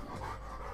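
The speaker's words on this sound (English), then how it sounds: "if you hear some puffing in the background, that's not me getting excited, that is my dog" Brief, soft rapid breathy puffs, like a dog panting quietly in the background, with no voices.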